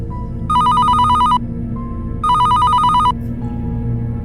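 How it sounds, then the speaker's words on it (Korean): A telephone bell rings in two loud bursts, each about a second long with a pause between, over a steady low background hum, at night inside a quiet building. "전화벨 소리가"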